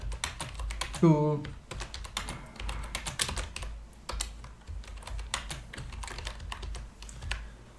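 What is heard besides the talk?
typing tooltip text on a computer keyboard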